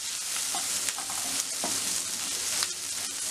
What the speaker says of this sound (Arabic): وهنشوح الثوم مع الفلفل لحد ما ريحة الثوم تظهر معانا.